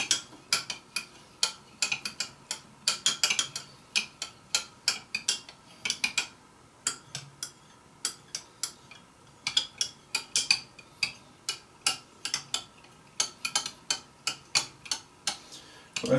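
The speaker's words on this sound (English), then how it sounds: "I'm just doing the final mix to make sure that get it well incorporated." Photographic emulsion with hardener stirred by hand in a container, a close series of quick, irregular clicking taps and scrapes of a utensil against glass or vessel walls, coming in bursts with brief pauses.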